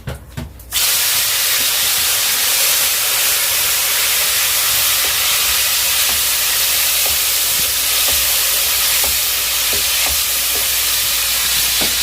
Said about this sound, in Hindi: ज़ीरा डाला है वो हमने इसमें थोड़ा सा ब्राउनिश हो जाए